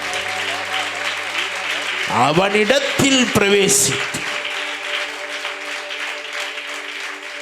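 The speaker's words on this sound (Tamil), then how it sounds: "நல்ல கைகளில் ஜீவன் இருந்தா நல்லா கைத்தட்டி ஆண்டவருக்கு நன்றி சொல்லு." A church congregation at a revival meeting bursts into a loud round of clapping that swells and then fades, mixed with a preacher talking over a microphone and a steady background tone.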